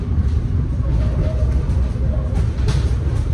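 Onboard the Lodaya executive train pulling into Kiara Condong station, a steady low rumble of the carriage fills the space, with faint rail noise and a soft brief voice in the background.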